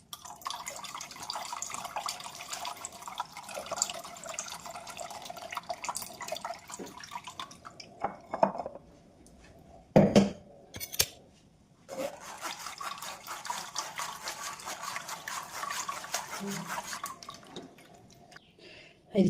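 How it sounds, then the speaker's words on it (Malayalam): Carrot and beetroot juice is poured into boiled juice in a home kitchen, a trickling, splashing liquid stream that stops briefly midway and then resumes, close and moderately loud. "ബീറ്റ്റൂട്ടും ക്യാരറ്റും തിളപ്പിച്ച ജ്യൂസിൻ്റെ കൂടെ ഞാൻ ഒഴിച്ച് കൊടുക്കണം കേട്ടോ"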